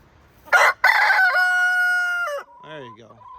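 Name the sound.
rooster crowing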